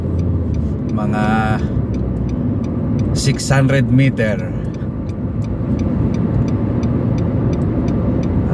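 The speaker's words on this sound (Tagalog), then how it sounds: "talagang bibilis ang takbo ng sasakyan." A car travels at speed along a widened road near a new bridge on the route from Hessa Street to Al Khail Road, its steady road and engine roar continuous throughout while someone talks over it.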